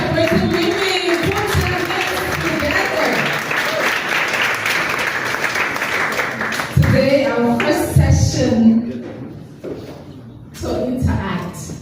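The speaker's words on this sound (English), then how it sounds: "Put your hands together." Dense audience applause at a Women's Day celebration in a hotel ballroom, sustained and loud for several seconds, then thinning out as a voice speaks over the fading claps.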